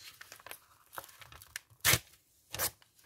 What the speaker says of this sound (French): Ça va peut-être pas très bien se déchirer